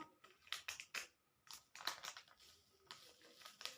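Crinkly plastic crackling and tearing in short bursts as a food dye packet is opened, close by and fairly quiet, with brief gaps between the rustles.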